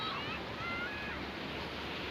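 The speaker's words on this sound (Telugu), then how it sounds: "అలలు నన్ను ఢీకొడుతూ ఉన్నాయి" Ocean surf rolls in at Mypadu beach in Nellore as a steady, close, broadband wash of breaking waves with wind, continuous and full throughout.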